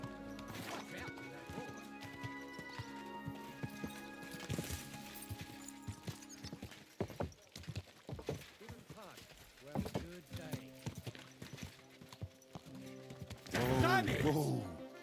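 Horse hooves clip-clopping in the medieval video game Kingdom Come: Deliverance 2, mixed with game music and effects, with a loud rushing burst near the end.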